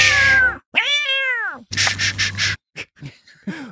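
A person's voice imitates a cat, giving several drawn-out meows and wailing yowls with bending pitch, loud and close, broken by short pauses and a few clipped vocal noises.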